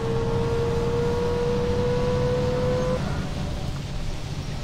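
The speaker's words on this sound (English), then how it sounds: "This bus is so loud. It sounds slightly like it's dying." Loud, strained bus engine in the OMSI 2 bus simulator game, a heavy droning rumble with a sustained high whine that cuts off partway, the low engine note continuing steadily alone.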